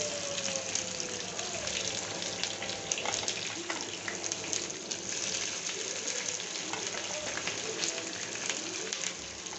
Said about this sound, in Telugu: కొద్దిగా వేగాక ఆనియన్స్ వేసుకుంటున్నా